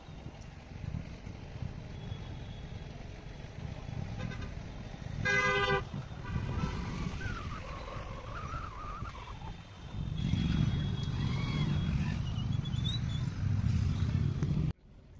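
Road traffic stuck in a jam on the way to Kainchi Dham near Nainital, with a steady low rumble of engines, a short burst of honking around the middle and a louder, closer vehicle surge near the end.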